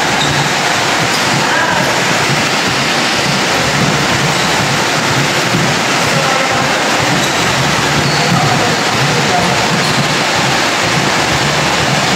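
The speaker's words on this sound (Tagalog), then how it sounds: "Grabe ang ulan guys." Loud, constant rushing downpour fills the whole stretch, a dense roar of water with no pauses.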